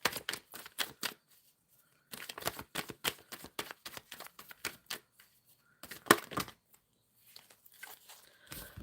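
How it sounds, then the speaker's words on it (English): Tarot cards being shuffled by hand in bursts of rapid riffling and snapping, with short pauses between rounds, close and clear with no talking. "Shuffling for Pooja's career."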